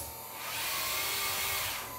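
A monorail in a work-in-progress automated container terminal model runs with a high, steady electric whine that swells in and fades away over a couple of seconds, close by and alone.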